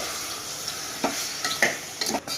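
Mutton with turmeric and salt is stirred in a pan over full gas, giving a steady sizzle broken by a few sharp spoon scrapes and clinks against the pan.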